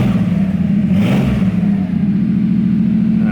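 A loud, raw Porsche 911 engine with no exhaust fitted revs up and holds a rough, rumbling drone with mechanical clatter, close by and unmuffled.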